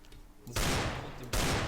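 Gunfire in Counter-Strike: Global Offensive comes as two loud bursts of rapid shots hitting rocks, separated by a short pause after a quiet opening.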